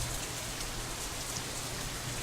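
Steady rain falls in the visual novel Katawa Shoujo, a soft continuous patter with a low rumbling bed beneath, even and unbroken with no voices.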